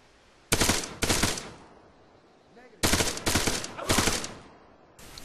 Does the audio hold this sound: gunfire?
yes